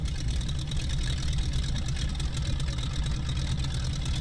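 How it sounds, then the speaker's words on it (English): Simulated Jacobs radial seven-cylinder 300-horsepower engine on a tail-dragger aircraft in X-Plane 11, a steady, loud, low idling drone with an even throb throughout and no speech. "it's got a Jacobs radial 7-cylinder, 300 horsepower engine"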